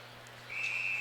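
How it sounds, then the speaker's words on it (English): A referee's whistle sounds at an ice hockey game between Michigan and the USNTDP U-18 team, one sustained steady blast starting midway and holding to the end over a low arena hum. "whistle blows"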